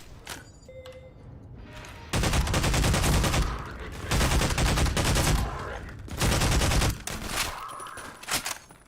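Gunfire from a Half-Life 2 firefight, heard as three long sustained bursts of rapid loud shots separated by short pauses, with faint game sounds and brief mechanical clicks between them.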